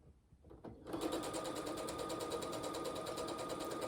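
Domestic sewing machine stitching a bias-cut quilt block: a brief shuffle, then a steady, fast mechanical whir with an even rapid rhythm, close and moderately quiet, with no talking.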